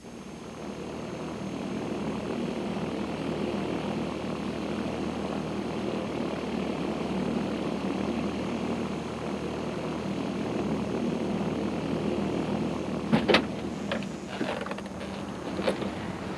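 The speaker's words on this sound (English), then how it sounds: "we make our landing at San Carlos at 11:14, exactly as planned." Small propeller airplane on the ground after landing at San Carlos, its engine a steady, fairly loud drone throughout, with a few short mechanical clicks near the end.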